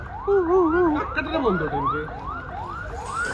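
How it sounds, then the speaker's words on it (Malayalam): An ambulance siren wails past on the NH66 highway, loud and close, with a repeated rising-and-falling tone that starts strong and then fades slightly as it moves on. "ആംബുലൻസ് അല്ല പോണത് ആംബുലൻസ് അതാ പോട്ട"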